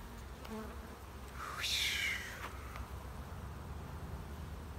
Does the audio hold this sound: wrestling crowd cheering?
no